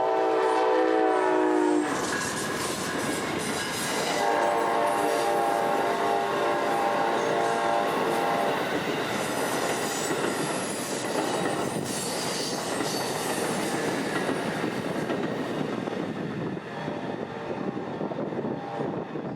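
Amtrak passenger train with a Phase 7 heritage P42 locomotive trailing second, cruising through town: a horn blast opens, then a loud, continuous rumble and clatter of rolling cars with a second horn sounding mid-pass.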